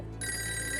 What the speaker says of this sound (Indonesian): Gus, ada telepon, Gus.